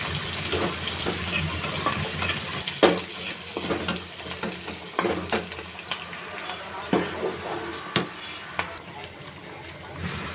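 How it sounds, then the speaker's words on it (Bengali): Onion and garlic frying in oil for a radish dal, a steady crackling sizzle with scattered pops and stirring clatter running throughout, a voice talking over it in places. "পেঁয়াজ রসুন তেলে ভেজে নিচ্ছি"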